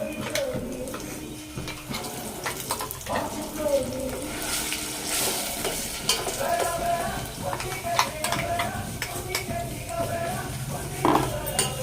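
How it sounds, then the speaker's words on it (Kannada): A spoon scrapes and clinks around a pan as poppy seed paste is stirred into simmering payasa with raisins, steady irregular metallic stirring over faint kitchen background and occasional voices. "ದ್ರಾಕ್ಷಿ ಆ್ಯಡ್ ಮಾಡಿದ್ಮೇಲೆ ನಾವು ನೈಸ್ ಪೇಸ್ಟ್ ಮಾಡಿ ಇಟ್ಕೊಂಡಿರ್ತೀವಲ್ಲ ಅದನ್ನು ಅದಕ್ಕೆ ಮಿಕ್ಸ್ ಮಾಡಬೇಕು."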